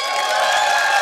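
A theater audience of married couples cheers loudly at a comedy show, producing a dense burst of crowd noise that lasts about a second.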